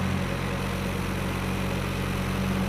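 A tractor engine idles in a video game, a steady low rumbling drone held evenly throughout with no other sounds.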